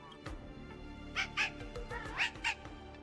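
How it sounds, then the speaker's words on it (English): A dog-like character in the video game Zenless Zone Zero gives a few short, soft yips and barks in quick succession, fairly faint against low background game sound. "Try to translate what Deeting is saying. Woof, woof, woof, woof"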